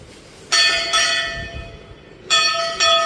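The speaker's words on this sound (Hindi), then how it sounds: "और ये बजा दी हमने घंटी।" Metal bell at a Hindu temple struck four times in two pairs, each ring loud and close with a bright ringing tone that decays between strikes, no talk.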